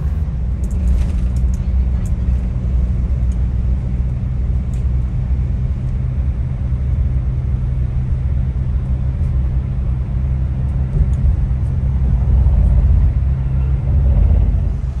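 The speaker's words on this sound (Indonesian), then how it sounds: "sepanjang perjalanan bis 27 Trans ini lari di kisaran kecepatan 110 sampai 120 km per jam" 27Trans double-decker bus cruising at highway speed on the Trans-Java toll road, a steady loud low rumble of engine and road noise that swells slightly near the end, with no talk.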